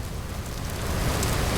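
Steady rain falls across a foggy hillside in a video game, a continuous even hiss with no voices.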